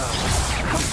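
A Confringo blasting spell goes off in Hogwarts Legacy, a loud, dense burst of crashing impact with a whooshing swell lasting about a second, right up close.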